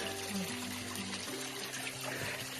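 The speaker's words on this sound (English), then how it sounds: "Like a little spring pops out just above us, and then a nice little cool fresh creek." A small, cool spring-fed creek on a Cape Scott hike trickles and pours close by in a continuous splashing babble, with a voice faintly present under the water.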